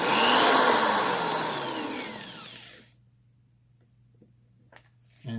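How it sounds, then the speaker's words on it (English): A small powered tool fitted with sandpaper sands part of a handmade challenge lock, whirring loudly for a few seconds and then winding down in pitch to near silence, ending with a faint clatter and a brief burst of noise. "In with a little sandpaper."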